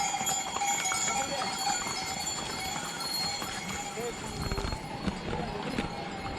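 Mules and horses walk the foggy Kedarnath mountain trail, their hooves clip-clopping steadily and fairly close, with voices in the background.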